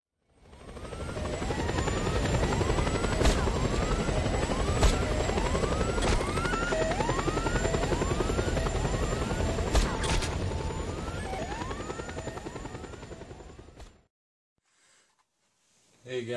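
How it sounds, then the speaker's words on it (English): In the Just Cause 2 video game, a helicopter roars loud and steady for about fourteen seconds, with rotor whine, repeated swooping tones and scattered sharp cracks, then cuts to near silence. "this video is called Helicopter Dive Fail in Just Cause 2"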